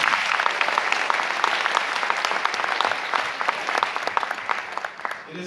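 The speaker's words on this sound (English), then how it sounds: "Let's give them a round of applause. One more time for the graduating class." A crowd at a university graduation ceremony applauds the graduating class, with dense, sustained clapping that fills the room evenly and tapers slightly toward the end, with scattered sharper claps standing out.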